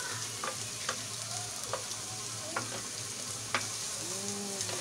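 Crab sautés in hot oil with a continuous low sizzle, while a spatula knocks against the pan in regular strokes about once a second, close up.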